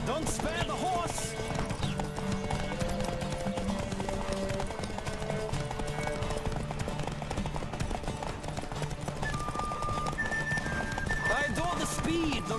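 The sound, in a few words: horse galloping in The Witcher 3 video game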